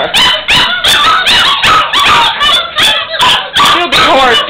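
Several puppies howl and bark together in a loud, close, continuous chorus of rising and falling yelps and whimpers.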